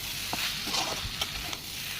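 Kochur loti (taro stolons) go into hot mustard oil in a pan, giving a steady, moderate sizzle with faint stirring clicks over it, no voices.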